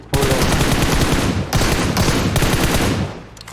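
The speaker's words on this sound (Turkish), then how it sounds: "Ya bizim aracı vuruyor bir de." Loud, rapid automatic gunfire in a video game, hammering the team's vehicle in sustained bursts with a brief break partway through before trailing off.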